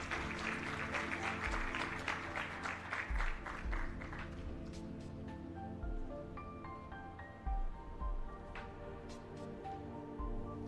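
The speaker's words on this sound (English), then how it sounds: "Everybody put your hands together for a round of applause" Applause from a convocation audience rises under music for a graduating valedictorian, clapping strongest over the first few seconds and then fading as sustained musical tones carry on, all heard at a modest distance.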